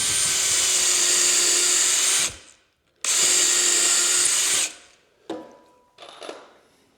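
A power drill boring a pilot hole into a 2x4 wood board runs in two steady, loud, high-pitched whirring bursts of a couple of seconds each, followed by brief shorter spurts close up.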